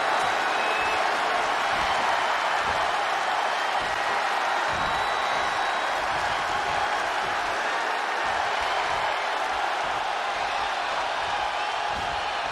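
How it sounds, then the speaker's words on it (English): A virtual arena crowd in the WWE 2K20 wrestling game keeps up a steady, dense roar of cheering, with commentary voices faintly beneath. "this crowd's starting to perk up, Michael."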